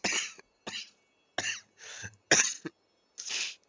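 A person who has a cold and fever coughs in a series of six short, harsh bursts close to the microphone, with some sounding like throat clearing and brief silences between them.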